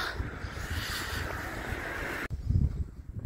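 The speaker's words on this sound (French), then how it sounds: "Il y a du vent." Steady wind rushing and buffeting the microphone, a broad low roar that drops away abruptly near the end, leaving gusty low rumbling.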